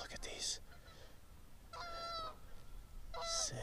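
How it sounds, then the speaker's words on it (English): Several wild goose honks, near and fairly loud, in short bursts with pauses between, over steady background noise on ice during a goose hunt. "Look at these geese."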